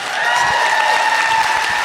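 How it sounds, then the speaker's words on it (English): Audience applause at a live podcast show in San Francisco, a dense, steady burst of many hands clapping, loud and close, with a few faint cheers mixed in and no talk over it. "I just want to have our moment to applaud"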